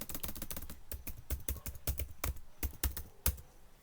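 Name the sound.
typing a terminal command on a computer keyboard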